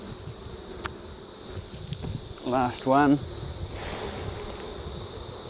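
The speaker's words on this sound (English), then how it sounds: "Shaking the bees off, brushing the bees off." Honey bees buzz around a beehive as they are shaken and brushed off flow frames, a diffuse insect hum with a brief louder burst of activity mid-clip, and a voice speaks briefly near the start.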